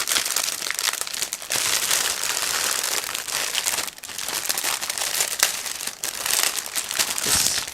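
The plastic bag of a 1/35 Miniart T-60 screened tank model kit crinkles steadily and close by for several seconds, with dense rustling and sharper crackles and no talk.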